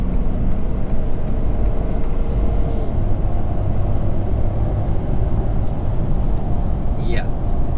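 2017 Ford F-250 Powerstroke Lariat diesel pickup accelerating hard, a constant deep rumble with road and wind noise, heard from inside the cab under ongoing talk.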